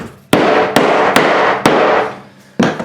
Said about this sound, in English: I toenail my bottom stud so that it becomes married with this plate here.